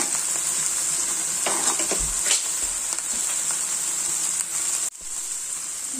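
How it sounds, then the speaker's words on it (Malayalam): Okra frying in oil in a pan gives a steady, close sizzle throughout, with a few light stirring scrapes partway through and a brief dip near the end. "നല്ലതുപോലെ ഒന്ന് ഫ്രൈ ആവട്ടെ"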